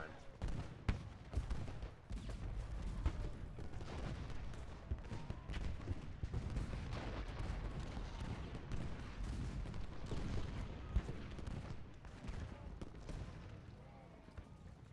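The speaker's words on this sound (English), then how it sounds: "we can hear the shooting going on down on this flank" Battle gunfire in the video game Ultimate General Gettysburg, dense crackling musket volleys and rattling shots rolling on continuously at a distance, fairly quiet, with a voice talking over them.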